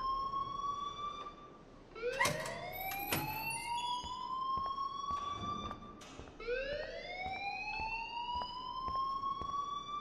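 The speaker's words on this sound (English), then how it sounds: "please turn off that alarm since that's your job" An alarm in the video game Life Is Strange rings as a loud, repeated rising electronic siren sweep, cycling three times with sharp clicks in between.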